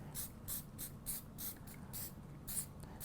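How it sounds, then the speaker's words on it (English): Hairspray is misted lightly over a sugar flower in short, soft hissing bursts, about eight quick close sprays in a rhythmic sequence, faint and without talk. "you can just then very lightly spray over the top of this"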